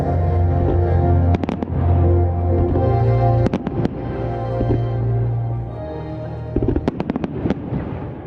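Fireworks with music open the Wakakusa Yamayaki mountain fire festival in Nara, Japan. Sharp bangs and crackling bursts come in clusters over a loud continuous crowd and music bed.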